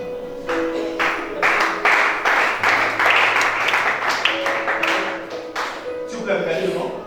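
A church congregation applauds and cheers for Michel, a loud run of clapping bursts mixed with shouting voices that rises and holds for several seconds, with music-like tones underneath.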